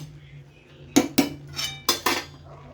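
A spoon clinks and scrapes against a pot while stirring carrot halwa, a few sharp metallic knocks in two pairs with soft scraping between them, close and fairly quiet.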